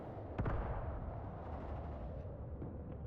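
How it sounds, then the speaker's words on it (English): Muffled mortar shells thud onto a defended position in the WW2 game Mius Front, one sharp blast early on followed by a dull, continuous rumble of distant impacts. "Mortars are still hitting this position."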